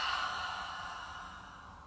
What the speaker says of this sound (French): Et expirez par la bouche.